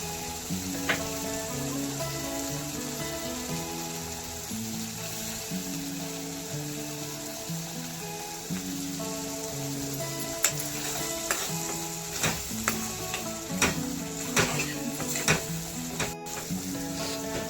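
Homemade schezwan chutney, finished with a squeeze of lemon, cooks down in a pan with a continuous sizzle, while a spoon stirs it and scrapes against the pan in sharp clicks that grow more frequent toward the end.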